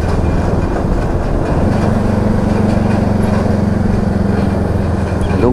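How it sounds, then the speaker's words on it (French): A heavy tractor engine rumbles steadily and loudly up close, with a low droning hum and rattling underneath, no voices. "Le tracteur."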